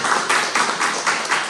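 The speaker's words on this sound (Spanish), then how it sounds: "Un aplauso" A live audience applauds a guest invited onstage at an entrepreneurship talk, producing dense, steady clapping that swells in regular waves, loud and close, with no talk over it.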